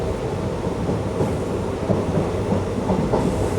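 A train runs on the Thiruvananthapuram–Nagercoil line between Parassala and Nagercoil on a rainy day, making a loud, continuous rumble with faint rhythmic clatter and no speech.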